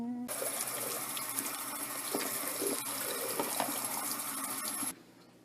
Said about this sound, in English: Rumple is now going to receive a water refill